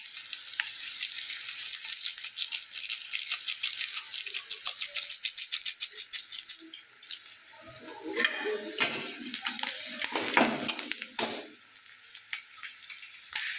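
Onion and garlic sizzle in a pan with a bright, crackling hiss that fades after several seconds, then gives way to clattering stirs and rattles of a utensil against the pan, close by.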